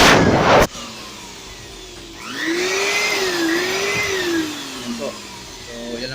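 A small Stanley STPT600 electric blower whirs steadily, its motor pitch rising and dipping slightly as the speed changes, preceded by a short burst of air noise.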